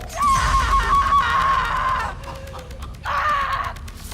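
A man loudly imitates a horror-movie character's shrill, wavering scream, a long sustained cry followed after a short pause by a second, briefer scream, close to the microphone.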